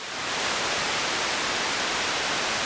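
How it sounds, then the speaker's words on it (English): Analog white noise from an Erica Synths Das Kleine Fusion modular synthesizer, a steady, loud, full-band hiss that swells briefly at the start and then holds constant, with no voices. "And this is white noise."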